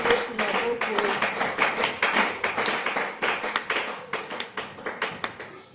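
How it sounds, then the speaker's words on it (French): A church congregation claps in rhythmic, steady beats during worship, many hands striking together in a lively repeating pattern. Voices join in underneath the clapping. "acclame encore très fort pour le Seigneur"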